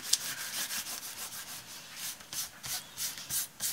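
A fingertip rubs dried paint off a watercolor bookmark, making soft, close, irregular scratchy strokes that come in short bursts with brief pauses, quiet and with no talking.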